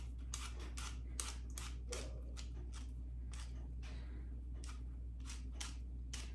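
Apples are peeled by hand for an apple cake, giving a quick series of soft, rhythmic scraping strokes, close and quiet, repeating roughly every half second over a low steady hum.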